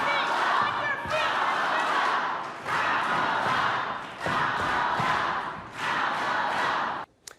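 A rally crowd stomping their feet and chanting together in repeated loud swells that cut off briefly between rounds, ending abruptly.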